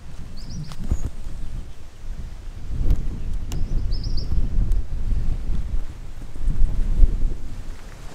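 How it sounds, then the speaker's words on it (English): Gusty wind buffets the microphone in a low, steady rumble that swells and eases, with a few faint bird chirps high above. "It's pretty windy up here."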